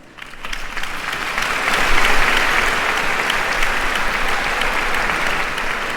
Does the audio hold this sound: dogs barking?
no